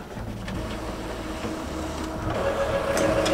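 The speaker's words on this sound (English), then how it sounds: "We are going ahead and printing off this one, printing off that one." Sublimation printer running in a small packaging business workspace, a continuous mechanical whir with faint ticking and a rising tonal whine toward the end.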